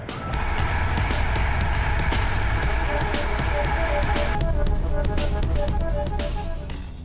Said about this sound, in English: The engine sound is a lot more chunky.